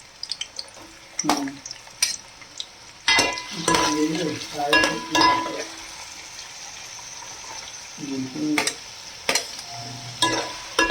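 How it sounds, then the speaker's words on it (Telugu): Onions fry in hot oil for a Telangana and Andhra style boti curry, with a loud crackling sizzle and repeated sharp scrapes and clatters of a spoon being stirred against the pan. "ఇవి బాగా రెడ్గా బ్రౌన్ కలర్ వచ్చే వరకు ఫ్రై చేసుకోవాలండి"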